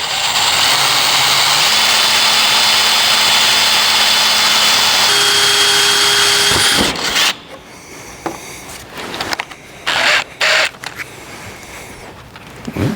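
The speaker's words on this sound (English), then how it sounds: "I'm going to drill some pilot holes here" A power drill runs steadily and loud for several seconds drilling pilot holes in a 1970 Chevrolet El Camino, then stops, followed by scattered knocks and shuffling.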